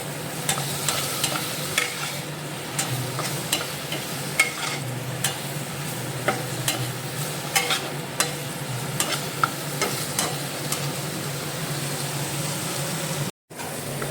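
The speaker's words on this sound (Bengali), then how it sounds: "একটু নুন আর হলুদ দিয়ে হালকা ফ্রাই করে নেব" Cut paneer frying in a pan with salt and turmeric, a steady sizzle under repeated scraping and stirring strokes, with a brief dropout near the end; no talking.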